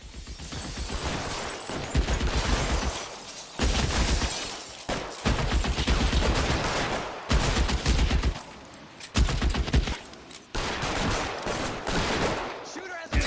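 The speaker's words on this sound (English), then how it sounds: "Shooter has a machine gun!" Sustained bursts of machine gun fire from the video game L.A. Noire rattle loudly and densely in several long volleys separated by brief gaps, with game sound filling the background.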